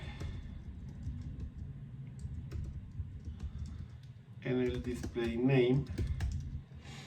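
Computer keyboard typing in a steady stream of quick light clicks through most of the stretch, with a voice speaking briefly over the keys near the end.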